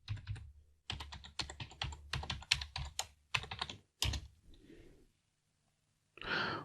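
Keys clatter on a computer keyboard as a password is typed in short rapid bursts, with a pause and a breathy exhale near the end.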